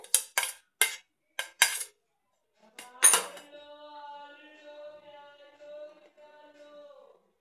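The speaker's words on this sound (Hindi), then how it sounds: "अब ये सारी चीज़ों को हम अच्छे से मिक्स कर देते हैं" A spoon knocks several times against a bowl while chopped carrot, capsicum, tomato and cabbage are tossed together for a salad, then one sharp strike rings out and fades slowly in a quiet kitchen.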